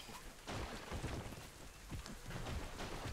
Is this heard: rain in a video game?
yes